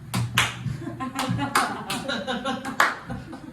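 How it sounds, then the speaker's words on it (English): A few people clap during a live comedy sketch: a dozen or so sharp, uneven claps from close by, with a voice briefly audible among them. "Florence and Lawrence stand in awe of Sheriff Woody and clap."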